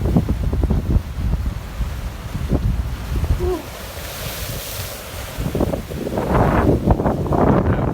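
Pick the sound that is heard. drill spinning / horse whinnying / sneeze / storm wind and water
storm wind and water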